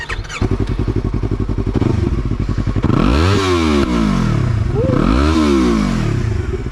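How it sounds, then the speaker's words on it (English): A Yamaha R3 motorcycle fitted with an Akrapovic slip-on exhaust idles with a rapid chugging pulse, then revs hard twice in sweeping rises and falls, loud and close. "One last rev for y'all to end the video."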